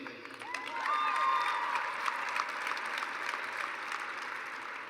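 A graduation crowd at Ironwood High School bursts into applause with a few cheers and whistles. The clapping swells quickly after a quieter start and then stays steady and full.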